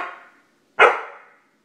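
A dog gives two sharp barks close by, the second louder, separated by a brief silence.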